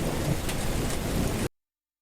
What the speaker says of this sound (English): The storms are raging.